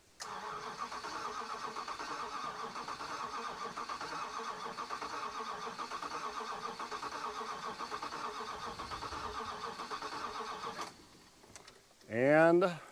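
A 1983 Dodge Ram truck, off the road for over 20 years, cranks for about eleven seconds without catching: a steady, even churning of the starter close up, then it stops and a brief voice follows.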